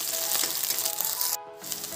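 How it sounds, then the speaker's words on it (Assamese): Onions frying in hot oil with ground ginger and garlic give a steady, close sizzle and crackle, dipping briefly before the hiss picks back up. "আদা নহৰু যিখিনি বটি লৈছিলোঁ সেইখিনি এইখিনিৰ লগতো অকণমান ভাজি ল'ম"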